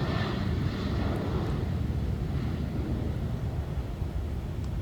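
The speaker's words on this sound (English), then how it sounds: "That's another fantastic takeoff. Yeah, and the classic 737." Classic Boeing 737 taking off, a loud broad engine roar with rushing wind noise, sustained and steady across the whole stretch, no voices.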